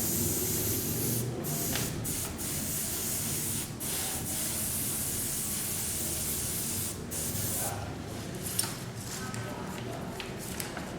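Copic marker airbrush sprays a fine mist in a continuous soft hiss with a few brief breaks, steady and close throughout.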